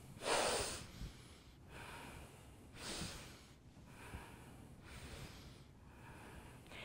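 Slow, deep breaths drawn in and pushed out during a guided movement exercise, about six rhythmic cycles heard up close, each exhale a soft airy rush, with no speech.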